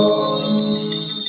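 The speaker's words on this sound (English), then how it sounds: "please ring the bell as you do so." A small hand bell rings steadily during a Hindu lamp offering ritual, a sustained bright shimmer with quick repeated strikes over a low droning tone, without speech.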